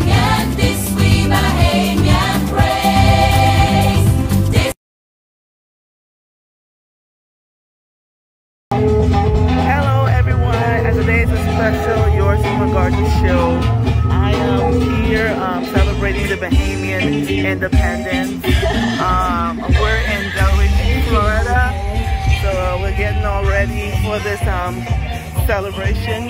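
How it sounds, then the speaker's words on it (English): Loud Bahamian music fills an outdoor Independence Day celebration, a dense, continuous band sound with crowd noise. It cuts out completely for a few seconds, then resumes just as full. "You can hear the Bahamian music playing"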